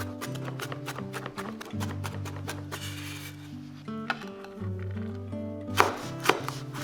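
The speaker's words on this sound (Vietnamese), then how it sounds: "Và băm nhuyễn thêm 30g tỏi để cho vô nước mắm nè." Quick, steady knife mincing of garlic on a cutting board, a run of sharp taps under continuous background music.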